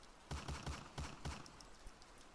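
Gunfire rings out on a dark country road at midnight, five quick, sharp shots in an uneven burst. They sound fairly distant and faint over a low, hissing background, with no voices.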